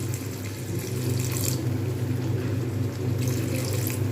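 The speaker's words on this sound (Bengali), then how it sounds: "এইবার এতে আমি ব্যবহার করব গরম জল" Hot water pours steadily into a cooking pot of Bengali jhinge aloo posto, a soft continuous splashing rush close by with no talk.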